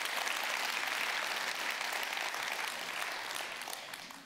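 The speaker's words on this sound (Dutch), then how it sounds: "Applaus, inderdaad." Applause from an audience for soprano and countertenor singers at a Dutch winter-night literary stage event: a continuous, even wash of clapping that holds steady throughout, fairly soft and distant, slowly tapering slightly toward the end.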